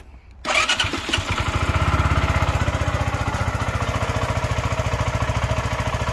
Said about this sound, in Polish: Uruchomimy silnik.